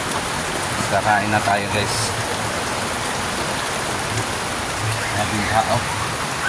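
Steady rain pours down during flooding in Cavite, a constant wash of noise that runs through the whole stretch while people talk close by over it.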